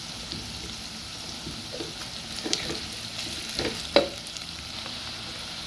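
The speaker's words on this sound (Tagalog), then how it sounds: "Onion and garlic, pinagsabay ko lang." Onion and garlic sautéing together in a pan, a soft continuous sizzle broken by a few spoon scrapes and one sharper clack, close by, with no talking.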